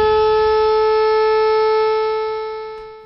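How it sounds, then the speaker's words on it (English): An air defense siren sounds aboard the USS Arizona, a loud steady electronic tone with layered harmonics that holds evenly and then fades away near the end. "when I heard the ship's siren for air defense sound"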